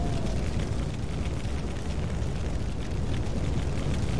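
A remote-control car bomb detonating in GTA RP, a dense, loud roaring blast that holds as a sustained rumbling wash throughout with no quieter gaps.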